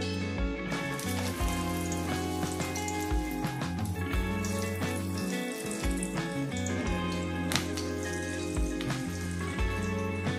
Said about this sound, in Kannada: ಈಗ ಎಣ್ಣೆ ಕಾದಿದೆ, ಇದಕ್ಕೀಗ ವಡೆ ಹಾಕೋತೀನಿ.